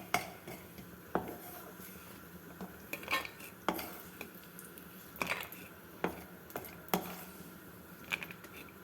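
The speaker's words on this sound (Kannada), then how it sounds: "ಸ್ವಲ್ಪ ಬಾದಾಮಿ ಪೀಸುಗಳು ಹಾಕಿ ಇದನ್ನು ಸ್ವಲ್ಪ ಹುರ್ಕೊಳ್ಳೋಣ" Almond pieces roasting in a pan while being stirred with a utensil, heard as quiet, irregular clinks and scrapes against the metal, spaced about a second apart.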